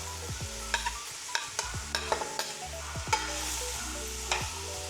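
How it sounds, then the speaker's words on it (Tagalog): Ginger and garlic sautéing in a pan for ginisang upo with chicken, a soft steady sizzle broken by sharp spatula scrapes and taps at an irregular rhythm, quiet and close, with no talking. "lagay na natin yung ating ginger. And then lagay na rin natin yung garlic"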